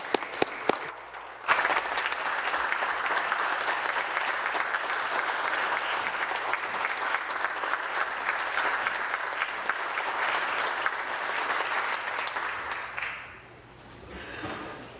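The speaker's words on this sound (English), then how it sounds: "Can we all join in giving a round of applause for the 100th anniversary of Canada's" Sustained applause fills a legislative chamber marking the 100th anniversary of Canada's Naval Reserve, dense steady clapping from many members lasting over ten seconds before fading out.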